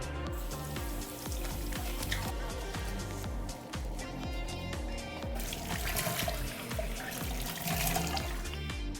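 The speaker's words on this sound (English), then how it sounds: "तो सबसे पहले हम face wash कर लेते हैं." A tap runs while a face is washed with salicylic acid gel face wash, a steady close stream of water with uneven splashing layered over it.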